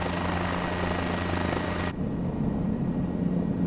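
Helicopter engine and rotor in Microsoft Flight Simulator, a steady loud drone with low rhythmic rotor hum that abruptly drops in brightness halfway through, continuing as a duller, muffled engine rumble.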